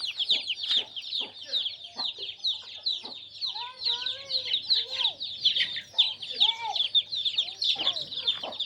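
Country chickens cluck and call continuously on a native poultry farm, a dense busy chorus with occasional higher chirps and a faint voice underneath.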